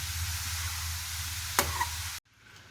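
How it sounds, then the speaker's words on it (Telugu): Grated raw papaya sizzles steadily in a pan as it is fried for halwa, with one sharp scrape of stirring near the end before the sound cuts off abruptly. "ఇది కొంచెం కలర్ చేంజ్ అయ్యేదాకా మనం ఇలాగా ఫ్రై చేసుకోవాలి"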